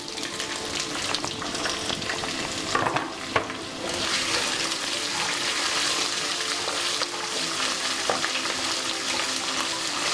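Onions sizzling in hot tempering oil for a bottle gourd yogurt chutney, a steady crackling fry that runs the whole time, with a few louder stirring clatters and spoon knocks near the start.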